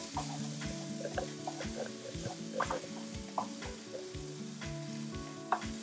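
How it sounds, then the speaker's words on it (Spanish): A sofrito of garlic, onion and parsley sizzles in a pan, a continuous crackling fry with small pops and a faint regular tapping beneath, no one speaking. "Mientras esto se nos sofríe"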